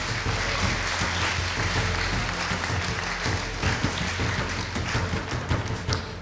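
A French real-estate awards audience at the Pierre d'Or ceremony claps for the winning advisers, a dense, steady applause that carries evenly throughout with a low hum beneath and no talking over it.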